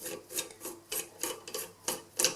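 Pins on a Roca dual flush toilet cistern valve being unscrewed by hand, giving a quiet, close series of short rasping twists repeating about every half second.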